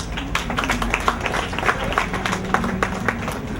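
Children at a church club gathering in Haiti applaud together, a brisk, steady patter of clapping with a faint murmur of voices underneath.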